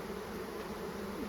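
Honey bees hum around production hives in a steady, even drone, fairly quiet and alone.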